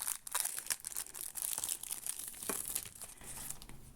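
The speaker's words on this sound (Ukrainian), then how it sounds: "Трішечки вам пошуршу." A plastic packet holding cross-stitch embroidery supplies being handled up close, giving a continuous crinkling and rustling with sharper crackles at irregular moments, fairly faint and with no talking.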